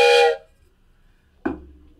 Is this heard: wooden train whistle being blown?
yes